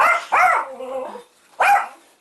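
A dog at home lets out two quick barks, a whining yelp between them, then a third bark after a short pause, close and loud with no other sound.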